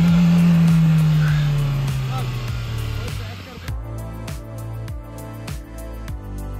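Engine of a Mahindra Bolero Camper 4x4 in heavy snowfall, a loud droning rev that falls away into a rhythmic low chugging idle pulse, close by with no clear talk.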